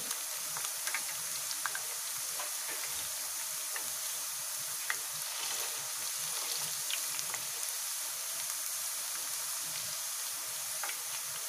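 Homemade potato chips fry in hot oil over a lowered flame, giving a steady, even sizzle with tiny crackles and pops throughout, close and unbroken, with no voices.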